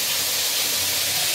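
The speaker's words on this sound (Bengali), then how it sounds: "আবার এখন মাছের তেলটাকে ভাজছি" Oil left from frying fish hisses and sizzles in a hot pan, a loud, steady, bright frying noise with no voices.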